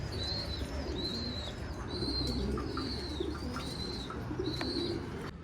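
Pigeons in a loft, cooing amid a steady low murmur, with a thin high chirp repeating every second or so, close and continuous throughout.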